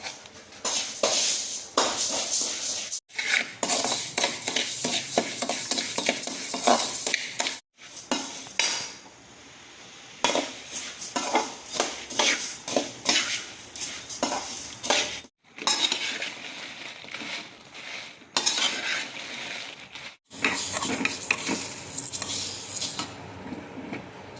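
Spices for curry chili powder being roasted and stirred in a pan, with steady metallic scraping and clinking of a spoon in repeated bursts separated by short silent gaps, close and fairly loud.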